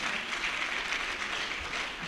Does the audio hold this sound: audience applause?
yes